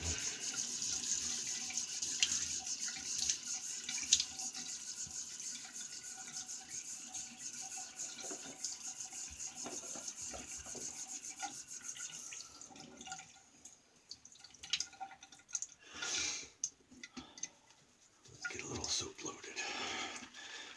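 Tap water runs steadily into a sink while a face is wetted before a shave, a continuous hiss with splashes and drips that turns choppier toward the end as hands move through the stream.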